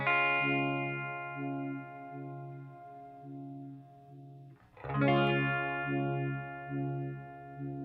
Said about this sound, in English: just a really great, I think it's a 2-stage phaser here on the first settings